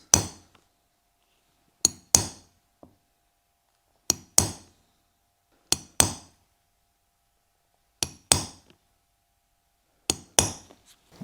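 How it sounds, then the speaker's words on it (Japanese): Small holes are punched in an olive leather full brogue shoe upper with a hand punch, heard as pairs of sharp, close mallet strikes repeating about every two seconds in otherwise silent surroundings. "そしたら次にこの間、この親穴と親穴の間の真ん中収まるように小穴を開けていきます。"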